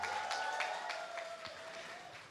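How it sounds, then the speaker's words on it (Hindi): Steady applause from a crowd at a Pathaan film event, a dense continuous patter of clapping at moderate level, with a faint sustained tone running underneath. "एक बार जोरदार ताली होनी चाहिए"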